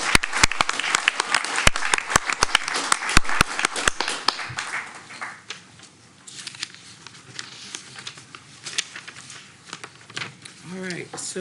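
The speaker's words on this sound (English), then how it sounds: "Can we get another round of applause for these amazing people?" A school board meeting audience claps for honored guests, sharp individual claps at the start thinning out after about four seconds, then murmuring room chatter and voices filling the rest.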